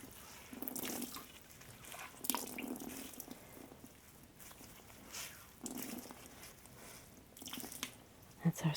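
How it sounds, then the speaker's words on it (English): Soda ash water squeezed by hand out of tie-dye fabric, with repeated wet drips and trickling splashes coming in bursts, close and fairly quiet. "so I'm just going to squeeze out the excess."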